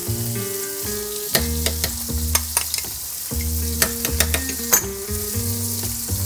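Flank steak sizzling in a pan, a steady crackling fry with sharp pops throughout, heard under music with a low bass line.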